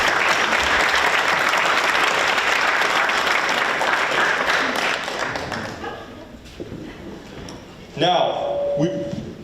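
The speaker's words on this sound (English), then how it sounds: "A round of applause for Ms. Levinsky." Audience applause fills a live Media Arts Center 10th anniversary event, a steady loud wash of clapping that fades out midway, then a voice speaks over the room.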